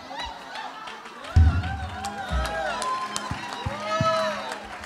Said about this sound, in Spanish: Dele aplausos.